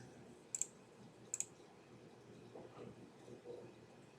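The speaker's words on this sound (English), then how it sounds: "So we're going to click on the report for the project." Two quick, sharp mouse clicks on a computer, close together and about a second apart, over a faint steady room hum with no talking.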